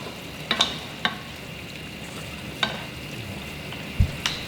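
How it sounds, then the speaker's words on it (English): Fajitas sizzle steadily in a hot pan while being stirred, a constant close frying hiss broken by a few sharp clicks and scrapes of the utensil against the pan, no talking. "let me stir it up a bit"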